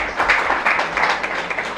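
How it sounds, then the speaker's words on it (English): An audience gives a brief round of applause for a civil services exam topper at a talk event. The clapping is close and lively, with slight surges in a short burst. "Please a huge round of applause for him also"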